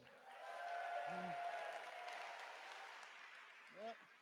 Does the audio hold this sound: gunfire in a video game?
no